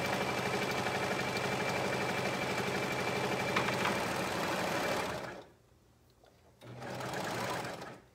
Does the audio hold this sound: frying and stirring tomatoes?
no